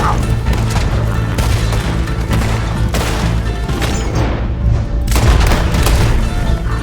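Heavy booming sniper shots and bursts of gunfire crack repeatedly in a Red Dead Redemption 2 bank robbery battle in Valentine, loud and dense, with explosive impacts throughout.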